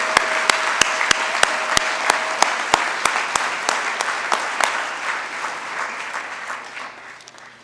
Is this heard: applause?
yes